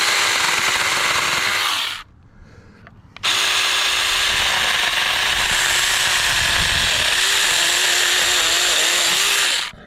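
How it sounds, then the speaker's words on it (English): A Saker mini electric chainsaw cuts through a roughly two-inch branch, its high buzzing motor roaring loudly, stopping briefly for about a second, then resuming with a steady strained whine through the wood until it stops. "What we'll do is do a little cut here."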